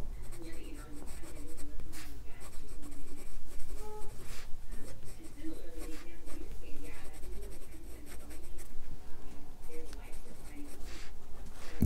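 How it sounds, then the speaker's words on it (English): Fine steel nib of a Sailor fountain pen scratching across paper in close, steady strokes, a soft continuous scritching with small pauses between words. "let's have a look at how the pen writes"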